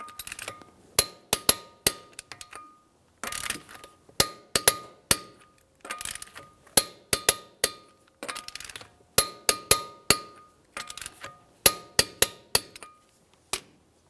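Lug nuts on a Ford Fusion wheel are torqued to 100 foot-pounds in a crisscross pattern, heard as a steady series of sharp metallic clicks and clinks from a torque wrench, close and distinct, with brief pauses between nuts.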